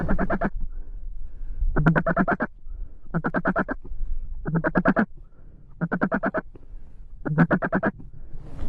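Mallard ducks quack in loud repeated bursts during a Canadian waterfowl hunt, six rapid clusters of nasal calls spaced about a second apart, close to the recorder and with no talk.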